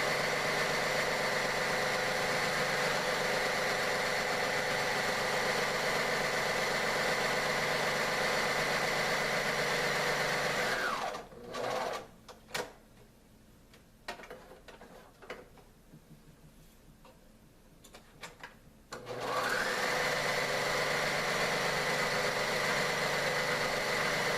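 A sewing machine runs a rolled hem on a napkin with a steady, loud motor hum, stops for several seconds amid light handling noises, then starts again.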